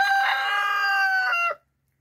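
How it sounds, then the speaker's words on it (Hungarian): A farmyard rooster crows once, loud and close, a single drawn-out call of about one and a half seconds that breaks off into silence, with no talking. "Hát ez most nagyon beindult kukorékolás tekintet."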